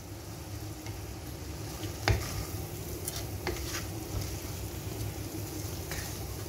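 Fried sardines get stirred into sizzling masala in a pan for mathi choru, a soft steady sizzle broken by a few scraping clinks of a spoon.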